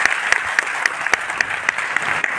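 An audience at a talk for farmers breaks into steady, enthusiastic applause, dense clapping filling the room with irregular louder claps standing out throughout.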